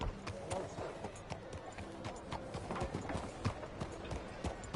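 Horse hooves clip-clopping at a steady walking rhythm in the video game Red Dead Redemption 2, fairly close and continuous under ambient sound and intermittent talk.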